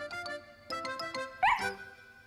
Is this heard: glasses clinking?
no